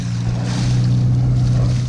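Boat engine knocking with fluctuating revs, a steady low droning hum with tonal bands that shift pitch partway through, heard alone over water and wind noise.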